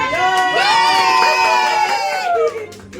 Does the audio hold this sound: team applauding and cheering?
yes